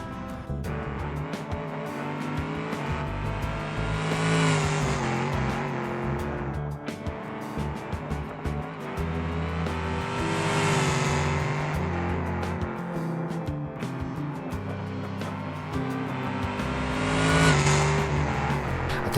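Cars and a truck drag racing in BeamNG, with engines repeatedly revving up into loud, rising accelerations that peak and fade in three distinct runs over a constant mechanical roar.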